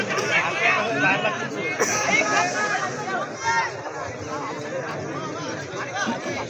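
Dense crowd chatter and overlapping voices fill the air at an outdoor buffalo fight between two bulls in a Konkan village, a steady loud babble with occasional shouts rising above it.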